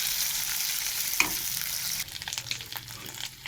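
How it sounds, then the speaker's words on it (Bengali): Eggs fry in hot oil in a pan with slit green chillies, a loud continuous sizzle that turns choppier with scraping stir strokes partway through. "এই ডিমগুলো আমি তেলে দিয়ে দিলাম, তেলে নেড়ে চেড়ে আমি ভাজবো।"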